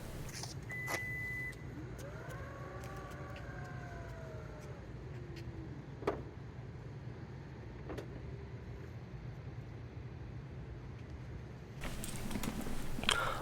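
The power liftgate of a second-generation Lexus NX opens after a kick sensor triggers it: a soft beep, then a whining motor sweeping in pitch over a steady low hum, with a few light clicks and a louder swell near the end.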